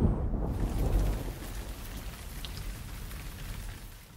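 Steady rainfall during a thunderstorm on a small Missouri homestead, with a low rumble of thunder early on fading into an even, dense patter of rain.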